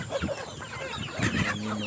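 Chickens cluck in short, repeated bursts at fairly close range on a farm plot near growing vegetables, with a steady outdoor background and no talk.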